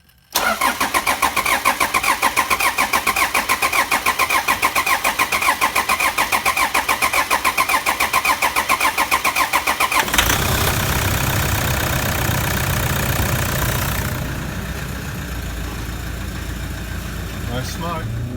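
A car engine with newly replaced injectors cranks with a rapid, loud, rhythmic churning for about ten seconds, then catches and settles into a steady close-up idle.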